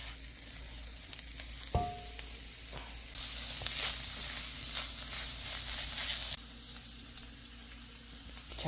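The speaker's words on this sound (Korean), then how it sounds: "이게 아주 바짝 졸여지는 거 기름 많이 안 넣어도 이게 안 타거든요" Food frying in a small amount of oil in a pan and cooking down, a steady close sizzle that swells louder for a few seconds mid-clip, with a brief clank of a utensil near the start.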